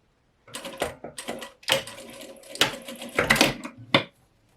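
Sewing machine stitching in an invisible zip, running in several short bursts of rapid mechanical stitching with brief pauses between them, close and fairly loud, with no talking.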